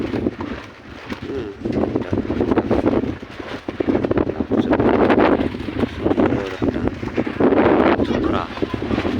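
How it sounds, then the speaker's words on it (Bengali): Outdoor afternoon wind at a scenic spot roars and buffets steadily against the microphone for several seconds, with faint bird cooing now and then in the background. "বাতাস"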